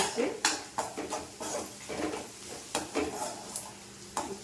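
Ridge gourd chutney ingredients with a little tamarind being sautéed in a pan, with a spatula scraping and tapping at an uneven rhythm over a soft sizzle, up close, and a voice speaking in between.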